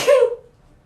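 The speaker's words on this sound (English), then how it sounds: "oh, sorry, I'm going to sneeze, hold on." A single sudden sneeze bursts out close and loud, then quickly dies away into quiet.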